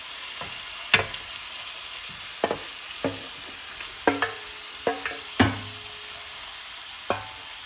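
Chicken with ginger, garlic and green chilli being stirred in a hot pan over high heat, with a steady low sizzle broken by separate sharp scrapes and clatters of the spoon, some close and loud, no talking.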